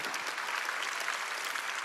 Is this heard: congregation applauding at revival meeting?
yes